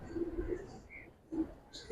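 Old-line Giribaz pigeons in a loft give soft, low cooing calls, a few muffled coos close by in a quiet space, with a brief pause before another coo.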